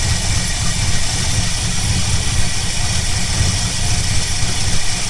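A Ford Falcon's engine idles steadily while warming up, a continuous low rumble with broadband mechanical noise that stays even and loud throughout, with no voices.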